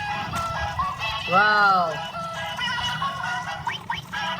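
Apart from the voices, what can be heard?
toy chicken clucking while laying eggs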